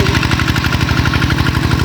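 A tractor engine runs steadily close by with a fast, even chugging pulse and a loud, constant drone, no voices over it.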